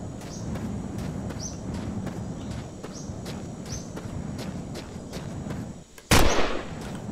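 During a rabbit hunt in The Long Drive, one loud, sharp gunshot with a short fading tail cracks out after several seconds of steady background noise and faint regular ticking.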